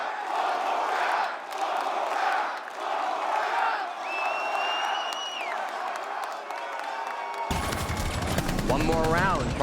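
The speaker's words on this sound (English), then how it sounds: "I understand what the crowd is chanting for" A large crowd at the Rainbow Six Siege esports finals chants and roars in steady rhythmic swells, with game sound effects mixed in, before sudden loud in-game noise at the end.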